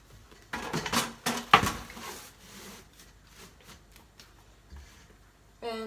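An IKEA pan is handled and set down among kitchen pots and pans, giving a few scattered metallic clanks and scrapes that fade into quieter rustling, with a sharp clatter at the very end.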